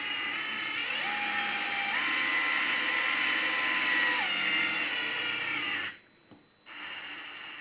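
DeWalt gyro screwdriver tightening screws on an Axial Basecamp RC kit, a close, steady high-pitched motor whine whose pitch shifts as the load changes, cutting out abruptly near the end before a brief faint restart.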